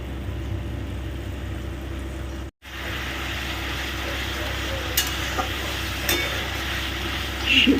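Soybean tadka cooking in a pan over raised heat, a steady sizzling hiss with occasional stirring clinks, broken by a brief gap of silence partway through.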